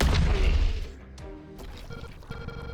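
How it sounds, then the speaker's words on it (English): A cannon fires in the video game The Last Spell, one heavy booming crash up front that decays into a ringing, rumbling tail with a few scattered impacts after it. "Let's do a just cannon."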